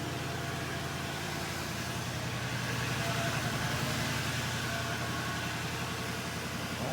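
A 1985 Oldsmobile Delta 88 engine idles steadily just after its first start of the year, a continuous low rumble holding even and fairly loud throughout with no talk over it.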